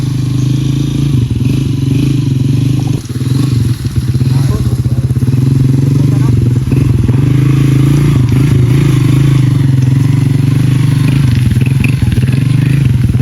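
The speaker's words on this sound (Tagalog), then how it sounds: "May mga kapitbahay din kami na nagmumotor dito kahit sobrang putik ng daan." A motorcycle engine drones steadily and loudly up close on a very muddy farm road, with clattering and scraping from the bumpy ride and a few thuds.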